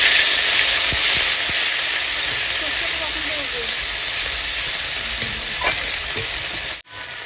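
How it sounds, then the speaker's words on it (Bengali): Ground masala paste of cumin, ginger, garlic and onion fries in hot oil, with a loud, continuous sizzle and hiss close by, a few soft stirring scrapes, and a brief clunk near the end. "এবার এটাকে সুন্দর করে ভেজে নেব।"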